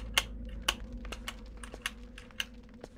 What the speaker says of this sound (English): you just press R with a certain rhythm